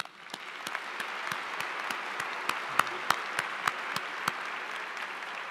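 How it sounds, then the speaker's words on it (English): A graduation audience at a university spring commencement for a college of health sciences applauds the chancellor with steady, full clapping, a few sharp individual claps standing out over the crowd. "Please join me in a round of applause for our Chancellor, Heather Norris."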